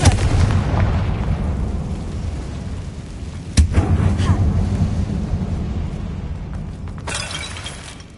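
Confringo fire spell cast inside an abandoned mine in the Hogwarts Legacy video game: a sharp, loud blast bursts out of a continuous low rumble of game ambience, followed later by a second crackling burst.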